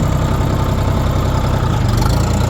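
A Kentavr 244S tractor's engine runs at a steady, loud, rumbling idle close by, continuous throughout with no voices.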